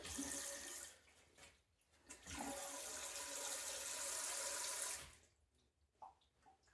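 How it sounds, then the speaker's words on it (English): Water pours from a container into a Glacier Bay toilet bowl in two bursts, a short splash followed by a longer, steady gushing pour, then trickles and quiet afterward. "I'm just going to add some water to the bowl."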